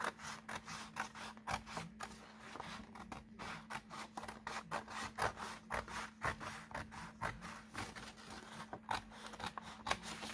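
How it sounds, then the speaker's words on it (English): Scissors cutting paper for a concertina craft project, a series of crisp snips and rustling paper scrapes at an uneven rhythm, close and faint under a low steady hum. "we are going to cut it with our scissors"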